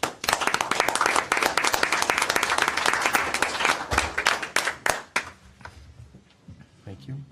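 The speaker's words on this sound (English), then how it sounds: "I think we owe this committee a big round of applause and a big thank you" Applause at a city council meeting for a committee, dense clapping from a room of people that holds steady for about five seconds and then thins out into a few scattered claps and quiet room sound.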